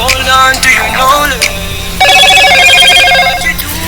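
A mobile phone rings loudly and close by, a repeating electronic ringtone pattern with a brighter, denser burst in the second half, with some talk and background sound around it.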